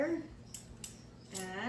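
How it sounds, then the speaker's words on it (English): Light metallic clicks and scrapes as a pair of Pampered Chef kitchen scissors is fitted back together, a few quiet close clinks with a brief ringing tone near the end. "So, I'll put my scissors back together,"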